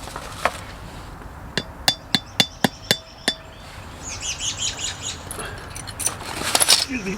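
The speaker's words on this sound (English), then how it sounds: "Hammer." A hammer taps metal while fitting an axle seal, a quick run of about seven sharp, ringing strikes, followed by softer knocks and faint chirpy background sounds.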